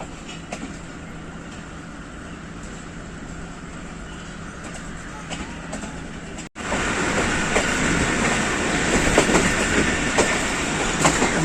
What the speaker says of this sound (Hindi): लाला मूसा जंक्शन पहुंच गई है जाफर एक्सप्रेस